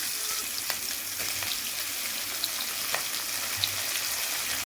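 Steady sizzling of onions frying in a hot pan, with faint crackles and pops and no voices.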